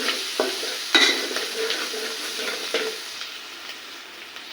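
Turmeric powder being stirred into frying garlic and cumin paste in a pan, a close hiss of frying with a few sharp scraping strokes early on, fading slightly toward the end.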